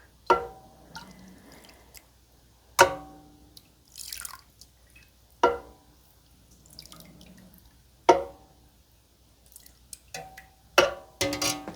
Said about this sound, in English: Let's do the cheesemaker stir.